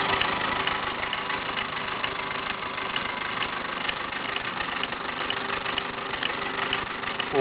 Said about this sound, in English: All that noise is really coming from the extra gear on the lay shaft.